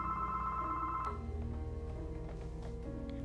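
A telephone rings in Roblox Piggy: Book Two with a steady electronic trill for about a second, then falls silent while background game music carries on.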